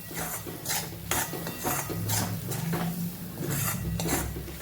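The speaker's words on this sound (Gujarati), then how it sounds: "અને હવે લીંબુ ઉમેરી દીધા પછી આપણે ટીંડોળાના સંભારાને હલાવી દઈશું" Ivy gourd sambharo with lemon being stirred in a pan, a repeated scraping and rasping of a spoon against metal in an uneven rhythm, close and fairly loud, with a faint sizzle beneath.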